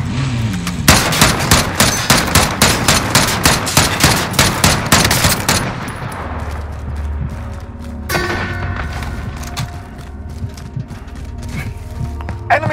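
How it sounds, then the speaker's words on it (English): Gunfire in the Call of Duty: Modern Warfare video game: a loud, rapid string of close shots for about six seconds, then quieter scattered bangs and mechanical clatter over a low game rumble. "Sniper rifle here."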